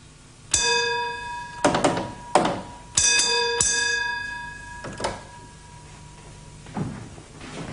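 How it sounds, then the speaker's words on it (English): A railway signal box bell rings out a train-out-of-section code in a spaced pattern of sharp, resonant strokes, some in quick pairs, each ringing tone fading before the next. "give the train out of section bell code, restoring the block instrument to the normal position"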